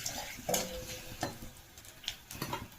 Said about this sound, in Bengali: তাই আমি সাদা জিরা, তেজপাতা আর লঙ্কা ফোড়ন দিয়েছি।